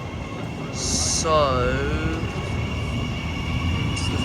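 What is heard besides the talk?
train departing a station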